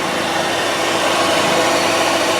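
A 2002 Kia Spectra's 4-cylinder engine runs with a steady, dense mechanical roar and hiss, loud and close, holding an even level throughout with no talking.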